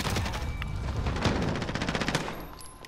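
Rapid, sustained gunfire from automatic weapons and a shotgun during a Call of Duty: Modern Warfare multiplayer match, dense bursts of shots layered over one another for about three seconds with no talk.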